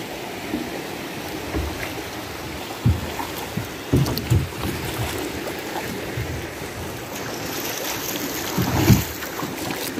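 A small boat rocks on waves as water sloshes and knocks irregularly against the hull, with wind noise blowing across the microphone.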